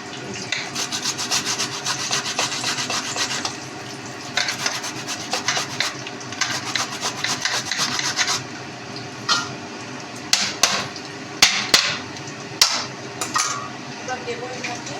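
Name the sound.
grating ginger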